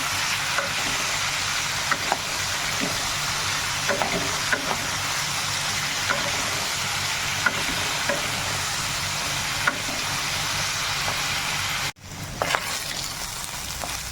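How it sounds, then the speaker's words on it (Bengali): Potato and capsicum fry in oil in a wok with a continuous close hiss and sizzle, faint stirring scrapes underneath, and a short break near the end before the frying resumes. "এবার একটু আমি ভেজে নেব, 5-7 মিনিট ধরে ভেজে নেব।"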